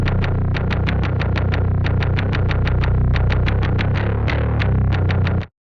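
An industrial metal bass guitar part doubled by a Virus synth bass: a thick, heavily distorted low tone that drives steadily, with sharp rhythmic attacks in quick repeated bursts at full, constant loudness until it cuts off.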